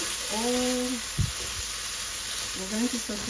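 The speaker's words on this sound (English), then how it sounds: "I added olive oil. As you can see, it's pretty hot right now. And we're going to saute" Ingredients sauté in hot olive oil with a constant bright sizzle and one dull stirring knock, while a voice talks briefly over the cooking.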